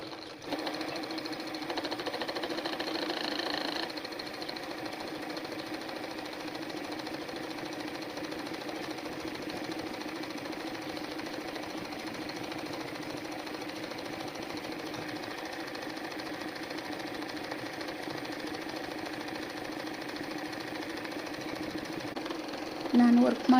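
An embroidery sewing machine stitching a design onto a saree pallu runs with a steady, fast mechanical whir and rapid needle clatter that continues evenly for the whole stretch, close by and without talk.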